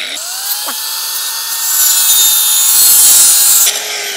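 Power saw cutting through a pipe at a 45-degree angle, a loud steady whine with a high grinding rasp that swells midway through the cut and drops off near the end.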